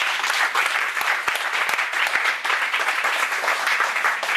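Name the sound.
church congregation applauding the Lord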